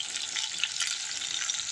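Small anchovies fry in hot oil for a fish thokku, giving a continuous close hissing sizzle with faint crackles throughout and no voices.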